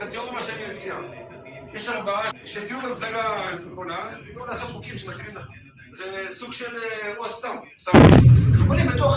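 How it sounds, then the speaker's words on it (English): A loud, sudden boom from an Iranian ballistic missile striking a residential area in Dimona erupts near the end, a close, heavy blast following a long stretch of people talking over one another. "Shows the moment that the Iranian ballistic missile struck a nearby residential area of the city"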